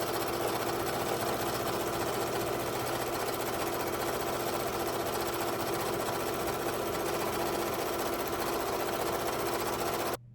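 A Ricoma EM-1010 embroidery machine stitching black thread onto a purple patch keeps up a loud, fast, continuous mechanical whir and rattle that runs without pause until it cuts off at the very end, with no talking.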